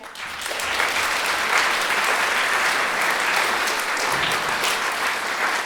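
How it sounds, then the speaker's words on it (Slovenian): An audience at a regional theatre groups' meeting applauds a theatre mentor, a full, even wash of clapping that swells quickly and continues steadily, close and loud. "Lep aplavz tudi njej."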